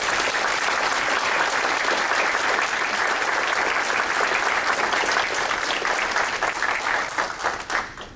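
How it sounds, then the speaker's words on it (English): An audience welcomes a rabbi to a university lecture with warm applause, a dense, bright rush of clapping that holds steady for several seconds, then thins out and fades near the end. "Please join me in giving Rabbi Skorka a warm welcome of applause"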